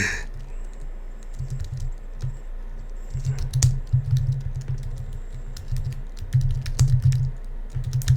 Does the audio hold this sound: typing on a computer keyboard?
yes